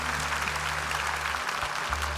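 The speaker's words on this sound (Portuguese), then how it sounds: "Mais uma vez, uma salva de palmas para essa gente aí" A church congregation applauding, with steady, sustained clapping from many hands over a low electrical hum.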